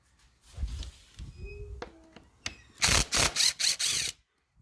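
A ratchet turning a T25 Torx bit to remove screws, several bursts of loud close clicking after some quieter handling noises, then stopping.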